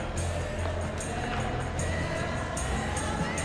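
A steady, dense roar from a packed stadium crowd at a Manchester City versus Chelsea football match in PES 21, holding a constant level throughout with no voices standing out.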